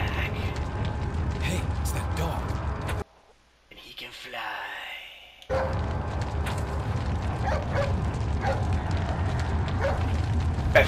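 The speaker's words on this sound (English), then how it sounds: "Dog is back. Hey, it's that dog." A dog barks in the video game Resident Evil 4 HD, sharp yips and barks mixed with creaking mechanical game effects, loud and close, broken by a brief near-silent gap, with a voice talking over parts.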